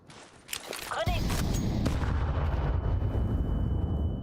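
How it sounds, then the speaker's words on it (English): A grenade blows up in Counter-Strike 2 with a loud, close boom that hangs as a sustained rumble, after a few sharp clicks and a brief whistle, with faint voices in the mix. "Grenade."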